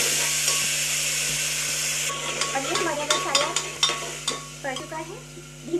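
Onions and masala spices frying in a pan on a gas stove, with a steady sizzle and scraping stirs from a utensil clinking against the pan, close and fairly loud.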